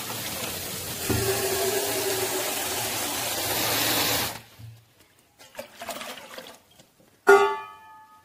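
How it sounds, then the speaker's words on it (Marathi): Water runs and swishes over soaked chana dal being washed in a bowl for about four seconds. Brief trickles and splashes follow, then a short clatter near the end. "आता 1 पाण्याने धुवून घेते"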